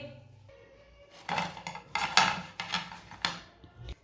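Cucumber tikki being placed onto a plate, several distinct clinks and clatters of utensil against dish in an uneven rhythm, close and fairly loud, with no talking.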